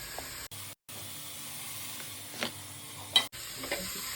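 Chicken curry masala sautés in oil with peas, tomato, turmeric and garam masala. A faint steady sizzle and hiss plays with a few soft stirring scrapes and brief dropouts, and no one speaks.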